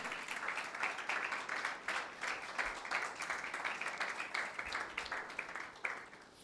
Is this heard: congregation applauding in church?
yes